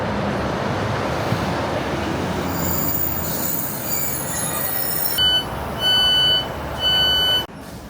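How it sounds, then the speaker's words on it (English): A diesel passenger train rolls into a station platform with a steady rumble and wheel noise, then a series of loud, evenly spaced electronic tones sound near the end. "the train will stop here"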